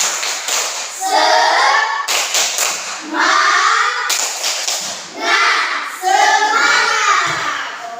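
Standing schoolchildren in a classroom perform a rhythmic spirit clap, loud, close bursts of patterned clapping in several phrases, mixed with their chanting voices.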